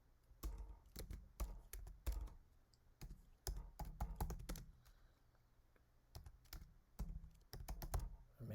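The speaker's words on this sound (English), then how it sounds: "So I'm going to type in working" Someone types on a computer keyboard while entering a search term into an Excel find-and-replace box. Close, quiet keystrokes come in short uneven bursts with brief pauses between them.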